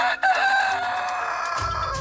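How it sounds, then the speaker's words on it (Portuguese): A rooster crows nearby at a farm, one drawn-out, loud call that fills the short moment, with no talking. "Quando os galos cantam"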